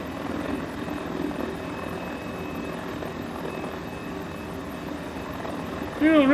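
A Mini 500 helicopter in Microsoft Flight Simulator descends slowly over the coast near Kiama, Australia, its steady engine drone and rotor hum continuous and close, rising slightly with a brief tonal whine at the end.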